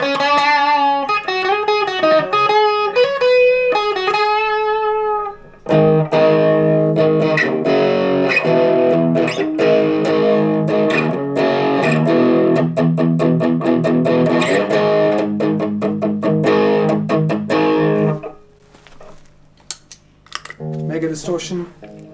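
An electric guitar through an overdrive pedal, played clean for a few seconds, then kicking into a thick, overdriven tone with sustained chords and choppy strums before trailing off.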